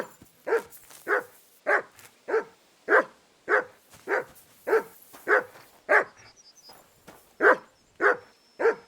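A dog barks in the video game Kingdom Come: Deliverance II, about a dozen loud, evenly spaced barks close by, with a steady rhythm and quiet gaps between them.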